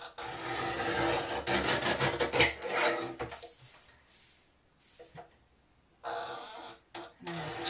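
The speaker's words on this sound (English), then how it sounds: "since they're the same length, I can cut the bottoms off at the same time" A paper cutter slices the bottoms off two paper cards of equal length at once while making a layered invitation. It gives close, rasping scraping strokes in bursts, with a quiet pause midway before a final short stroke.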